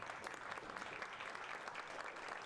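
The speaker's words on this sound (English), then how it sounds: "Let's give another warm round of applause for Giles here." An audience applauds after a talk at a tech and user-experience event, a steady, fairly quiet wash of clapping that lasts the whole stretch with no clear voices.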